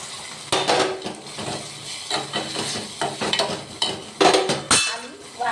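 Beans tip into a sizzling masala gravy of onion and tomato, followed by close scraping and stirring in the pan over a steady hiss, with clinks of the spoon and no voices.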